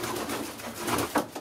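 Soft, low cooing of young pigeons close by in an aviary, a murmuring burble with a couple of slightly louder coos near the end.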